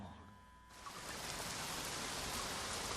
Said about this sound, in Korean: 정오 무렵 소나기가 퍼부었습니다